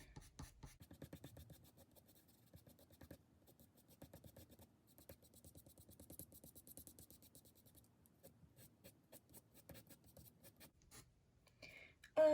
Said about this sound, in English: when you drag your pencil across